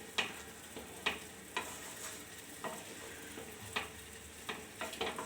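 Hyderabad-style paneer gravy is stirred in a pan: a spoon scrapes and knocks against the pan in a slow, irregular rhythm of distinct strokes over a soft, steady sizzle, with no voices.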